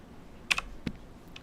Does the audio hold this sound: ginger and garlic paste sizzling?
no